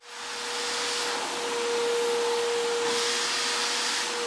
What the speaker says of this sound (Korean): 갑자기 청소기 소리가 시끄럽게 들리기 시작했습니다.